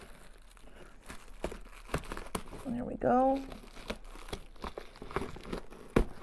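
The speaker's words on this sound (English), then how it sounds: "Let me see if I can use my scissors here to cut through some of this tape." Scissors slice through packing tape sealing a shipping box that holds a live plant, giving a brief crinkly tearing burst in the middle amid rustling, with a person speaking briefly.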